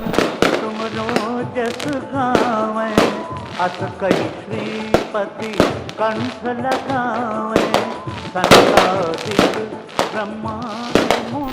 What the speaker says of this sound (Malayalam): വെടിമരുന്ന് നിറച്ച ഈ കോലങ്ങൾ കത്തിക്കുമ്പോൾ അന്തരീക്ഷം ശുദ്ധമാകുന്നതായും ഇവിടുത്തുകാർ വിശ്വസിക്കുന്നു